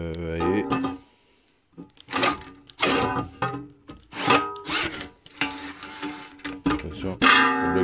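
A step drill cone bought at Lidl bores a 32 mm hole through sheet metal for a number-plate light on a Nissan Navara or Pathfinder, giving repeated close, harsh grinding bursts separated by brief pauses, with no talk over it.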